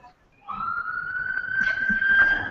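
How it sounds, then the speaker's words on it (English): Distant emergency siren rising and holding a steady wailing tone behind quiet room noise, continuous after a brief silent start. "And right now there is some sort of siren in the background"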